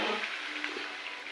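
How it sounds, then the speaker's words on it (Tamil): Lentil cooking water poured into a pot of vegetables in a kitchen, a steady close splashing pour with a faint hiss running through the whole moment. "அந்த தண்ணியை வந்து நம்ம இதில் விடுறோம்."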